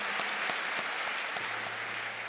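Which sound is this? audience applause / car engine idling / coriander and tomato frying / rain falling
audience applause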